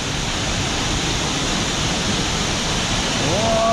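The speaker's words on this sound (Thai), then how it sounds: "โอ้น้ำตก" Heavy, steady rushing of a waterfall at Zhangjiajie, China, heard up close as a dense, unbroken roar, with a brief voice near the end.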